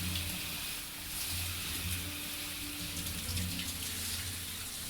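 Shower water running loudly in a video game, a steady, full hiss of spraying water that continues throughout with no talking.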